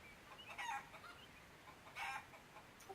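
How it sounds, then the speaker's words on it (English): Chickens clucking indoors inside a house, two short bursts of fowl calls around the start and middle, fairly close over a steady low background hiss with no talking. "sound of chickens clucking inside."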